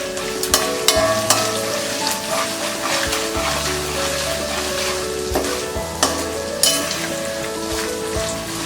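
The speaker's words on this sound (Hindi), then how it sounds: "इसमें डालेंगे ये हल्दी पाउडर, ये नमक, मिक्स कर देते हैं" Turmeric powder and salt are stirred into raw mango rice frying in a pan, with a steady sizzle under repeated scraping and clinking of a spoon against the pan.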